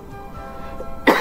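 A single sharp cough bursts out near the end during a physics lesson for junior high olympiad preparation, following a stretch of quiet room tone.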